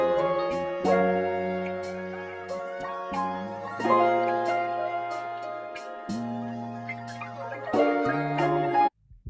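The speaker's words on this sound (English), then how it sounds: "And then from there, I added this live hi-hat." Crisp hi-hat ticks land in a loose rhythm over sustained chords that shift every couple of seconds, with the music cutting off abruptly at the end.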